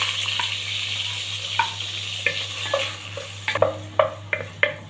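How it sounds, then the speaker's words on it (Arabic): Onions frying in a pot of hot oil and butter on a gas stove, a steady close sizzle with a low burner hum beneath and several sharp stirring clacks and scrapes toward the end. "وطبعا هي سخنه هننزل على طول بالبصل"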